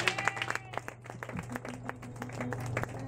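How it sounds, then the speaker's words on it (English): A run of sharp hand claps, irregular and close, sounds over a low background hum and a faint voice. "I'm making my clap for this one now."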